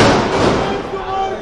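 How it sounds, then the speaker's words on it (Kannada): Firecrackers burst outside a cinema at a first-day first show of the Kannada film Natasarvabhowma; a loud, dense crackle fills the whole stretch, mixed with crowd noise. "ಈಗಾಗಲೇ ಪಟಾಕಿ ಸೌಂಡ್ ಸ್ಟಾರ್ಟ್"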